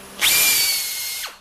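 A power drill with a 47-thousandths-inch bit enlarges a hole in a transmission valve body, one short high whine that spins up, holds steady for about a second, then winds down.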